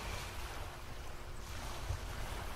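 Steady wind and ocean surf surround a sailing ship under way on the sea as its sails and flags flutter, a soft, continuous, low rushing wash with no distinct breaks.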